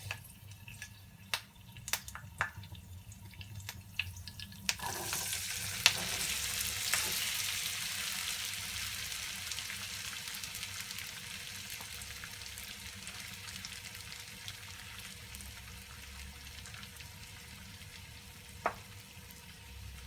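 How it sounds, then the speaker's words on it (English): Finely chopped potatoes hit a hot pan partway through and break into a loud, steady sizzle, with occasional scraping knocks as they are stirred; faint clicks precede it. "Then I'm adding the finely chopped potatoes."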